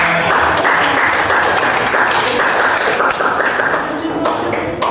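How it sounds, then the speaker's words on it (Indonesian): A classroom of students clapping on the teacher's cue, a dense, loud burst of steady applause lasting several seconds and easing off slightly at the end. "Tepuk tangan."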